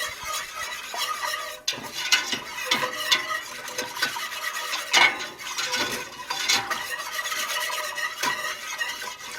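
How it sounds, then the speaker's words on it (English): Whisk scraping steadily through milk and a flour-and-butter roux in a hot pan, a continuous busy clatter of metal against pot with faint sizzling, close and loud, no voices. "Now I have 2 cups of whole milk. We're going to whisk that together."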